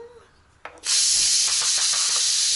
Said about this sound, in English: release the cooker